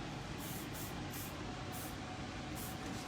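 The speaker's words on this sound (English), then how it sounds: "I'm just using a little bit of the more inside hairspray" Hairspray hisses onto hair in a hairdressing session, a continuous close spray with several short pulsing bursts layered over it, steady and fairly loud, with no talk.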